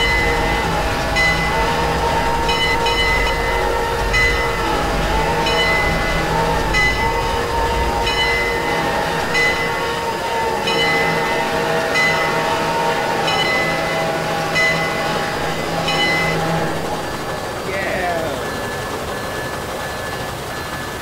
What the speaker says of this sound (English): Oh god, I hear the train.